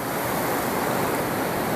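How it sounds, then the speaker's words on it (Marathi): Steady, dense roar of rushing water, continuous and broadband with no breaks, like a swollen river surging past close by: the Terna River overflowing at Ter after a cloudburst, Dharashiv. "पूर्ण क्षमतेनं नदी भरून वाहत आहे"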